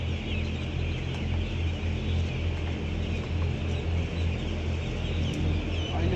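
Broiler chickens fill a poultry farm shed with a constant, dense chorus of clucks and chirps, steady and crowded, over a low mechanical hum, with no talking.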